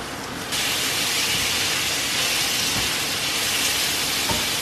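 Garlic, onion and chopped tomato sizzle loudly and steadily in a frying pan, a dense close hiss that jumps up when the tomato lands and carries on unbroken, with a couple of faint utensil clicks.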